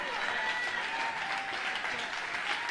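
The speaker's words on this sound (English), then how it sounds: "People are standing up and clapping for what he's saying here." A church congregation rises and claps for a preacher, a fairly quiet, steady wash of applause heard at a distance without letting up.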